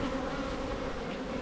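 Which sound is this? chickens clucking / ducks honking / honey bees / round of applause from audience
honey bees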